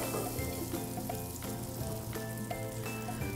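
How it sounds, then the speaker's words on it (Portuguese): Pepper-seasoned beef pieces frying in hot olive oil and butter for a stroganoff, producing a constant close sizzle with faint crackles and occasional light clinks, and no voices. "Frite de pouco a pouco e não deixe que elas fiquem muito perto."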